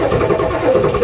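A Ford diesel truck engine that sat unused for two months, running rough and loud right after starting, a dense close rumble for about a second with no voices.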